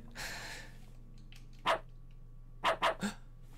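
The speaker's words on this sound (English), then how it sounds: "Is there a dog?" A few sharp, short dog barks in the video game LISA, spaced apart over a faint, steady hum, with a breathy noise at the start.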